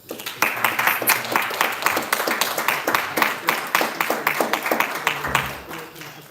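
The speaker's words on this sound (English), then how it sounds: "I think you should all give yourselves a round of applause." An audience at a live event applauds, a sustained burst of many hands clapping close by that thins toward the end as a voice starts to speak.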